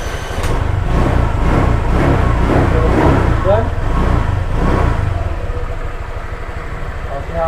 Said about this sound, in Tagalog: Yan na yung tunog ng makina niya.